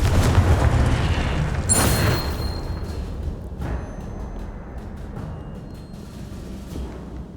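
A Confringo blasting curse explodes in Hogwarts Legacy, a loud booming blast up front that rumbles and fades, followed by a second sharp burst around two seconds in and lighter crackling aftershocks over a low, sustained game rumble.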